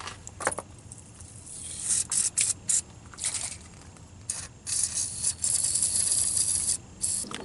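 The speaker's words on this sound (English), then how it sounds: "Maybe a little bit of spray." Short bursts of aerosol spray hiss onto a stuck bolt during work on a Volkswagen R32 with a 3.2 VR6 engine, several quick squirts followed by a longer steady spray, close and fairly loud.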